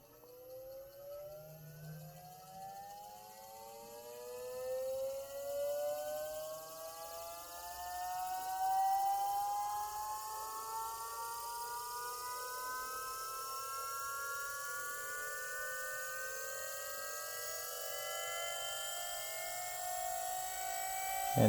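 A TRW electric power steering pump from a Porsche 997 Cup car spools up with a whining tone that climbs steadily in pitch over twenty seconds, then levels off at a high, steady idle whine, faint and alone.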